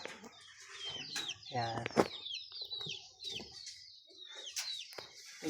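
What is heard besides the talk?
chickens, rooster and hens, clucking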